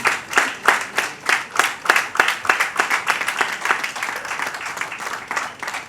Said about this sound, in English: Please give a resounding round of applause for her.